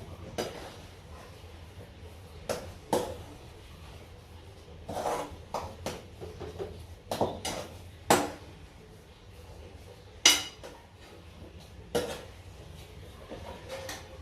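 Potato filling for aloo paratha being mixed and moved to a plate: a spoon clinks and scrapes against a metal pan in scattered sharp knocks, with quieter stirring between, fairly close.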